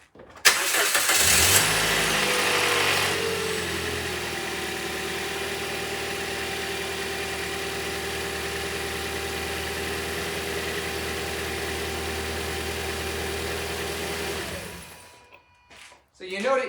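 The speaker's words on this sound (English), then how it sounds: "you could hear that split second of what an engine sounds like with no oil in it" A Toyota Corolla engine cranks and catches right after an oil change, with a brief rough burst before it settles into a steady, close idle hum that runs for about twelve seconds and then cuts off.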